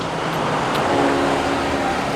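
Road traffic hum with a bus pulling in on a street on the route from Istanbul to Cappadocia, Turkey, a loud continuous engine rumble that builds slightly midway, close by and steady.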